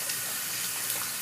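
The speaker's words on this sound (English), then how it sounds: "I'm just going to run it under the water here" Water from a tap runs steadily over a shaving brush as it's wetted for lathering, a soft continuous splash and gush heard close up without talk.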